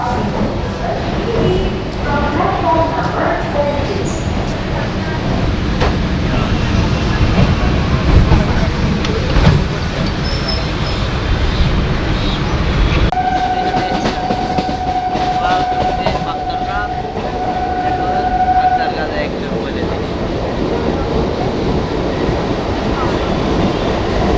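A local commuter train runs from Sealdah toward BBD Bag in Kolkata, with a loud steady rumble and rattle of the carriages and a sustained horn blast midway through.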